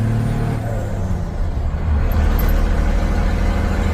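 A 12-valve Cummins diesel in a six-speed truck holds a steady, loud, droning rev around 2,500 RPM, a dense low rumble that swells slightly midway and continues without a break.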